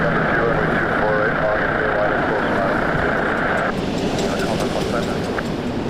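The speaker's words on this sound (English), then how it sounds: "Dreamliner coming in from Punta Cana, Air Canada 935. 7879, landing on 24 right." An Air Canada Boeing 787-9 Dreamliner landing on runway 24 right at Toronto airport, a loud, steady jet roar that holds throughout, with a voice talking over it.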